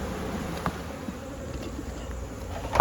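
Honey bees hum steadily at a light, weak beehive being fed in feeding and robbing season, a close, continuous insect drone with a few brief knocks and no talk.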